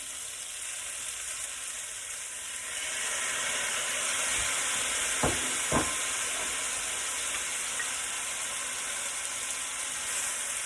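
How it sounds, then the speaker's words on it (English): Steak and sautéed vegetables fry in a pan with a constant close hiss and sizzle that swells after a few seconds, marked by a couple of brief knocks midway, and nobody speaks. "you're going to let it fry for about another 5 minutes"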